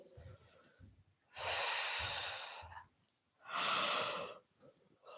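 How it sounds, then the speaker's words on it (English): Two long, breathy exhalations from a person yawning during an evening yoga session, each lasting over a second, separated by quieter breaths and soft low thumps, fairly close and clear. "Oh, I keep yawning."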